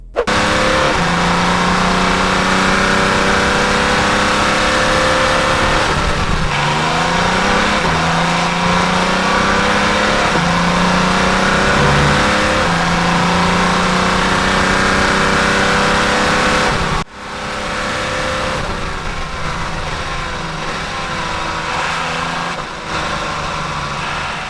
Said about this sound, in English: Now this car was a factory Peugeot car which raced at Silverstone in the Le Mans series.